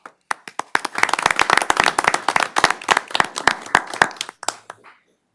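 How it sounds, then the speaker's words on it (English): A small group claps for several seconds at a city council meeting, uneven individual hand claps building to a steady patter, then tapering off and stopping. "a really big round of applause for y'all"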